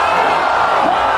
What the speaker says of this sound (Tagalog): Sumabog ang sigawan ng mga tao.